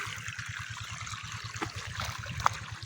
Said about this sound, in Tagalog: Ayan ang tulo ng tubig galing sa windmill irrigation.